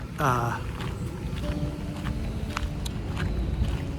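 Steady wind buffeting a microphone near a river, a constant low rumble with faint background sounds, no clear talking.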